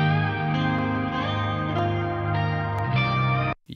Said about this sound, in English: reverb tail.